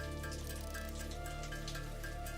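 Steady rain patters and drips in the video game Satisfactory, a soft, continuous wash of small droplets under a constant ambient game hum, fairly faint throughout.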